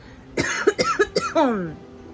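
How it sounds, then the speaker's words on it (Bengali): A close, harsh fit of several quick coughs in a row, ending with a rough, drawn-out throaty exhale. "ঘরে ঘরে সবারই কাশি আমার হালকা হালকা কাশি আর মার প্রচণ্ড কাশি"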